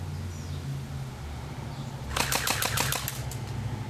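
A Crosman Warlord airsoft gun fires a quick rapid burst of about eight snappy shots in a row, fairly close, after a few seconds of quiet outdoor background.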